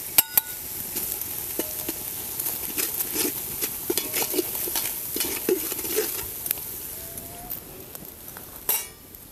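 Masala with onion-garlic chutney roasts in oil for a spicy village-style fish curry, with repeated spoon scrapes and light metallic clinks over a low sizzle, ending in a louder clatter.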